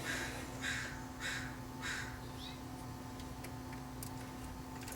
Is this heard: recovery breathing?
no